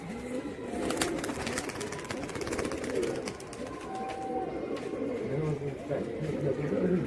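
Pet pigeon with large feathered feet, giving repeated low cooing calls close by while someone talks over them.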